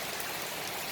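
Steady, dense rainfall pours down continuously at home in the early afternoon, a uniform hiss of drops with no pauses or voices.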